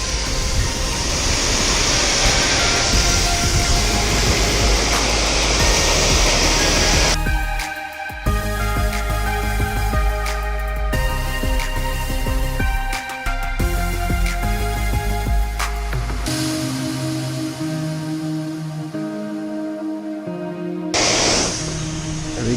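High-pressure water spraying dirt off fibreglass roofing sheets on a commercial building, a loud steady hiss that cuts out partway and resumes with rattling, splashing runoff, then a final rinse burst near the end.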